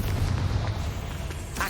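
A Bombarda blasting spell cast in Hogwarts Legacy, heard as a dense, continuous booming rumble with small popping bursts throughout, loud and close.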